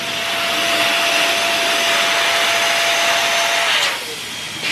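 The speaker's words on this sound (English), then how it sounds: "The right side of my blower is the one you push to get the air out" Electric balloon blower inflating balloons, a steady loud whooshing motor drone with a faint whine that runs continuously, then drops in pitch and level near the end as airflow changes.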